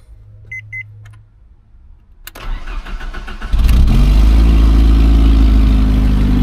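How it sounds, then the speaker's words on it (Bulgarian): A car engine is cranked after antifreeze was topped up; faint beeps and a clunk come first, then the starter churns and the engine catches into a loud, steady low idle up close. "Сега ще пробвам пак да запаля колата"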